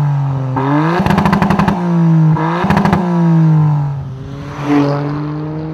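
A Toyota GR Yaris with a modified exhaust and automatic gearbox revs hard several times, engine pitch sweeping up and down with rapid crackling pops on each rev, loud and close.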